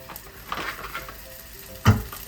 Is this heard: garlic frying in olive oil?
yes